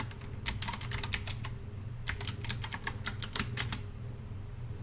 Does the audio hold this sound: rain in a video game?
no